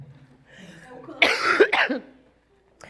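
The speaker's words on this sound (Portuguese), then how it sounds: "eu tô saindo de um resfriado, mas então a gente tosse" A single bout of close, hoarse coughing, two or three rough bursts in quick succession after a brief faint murmur.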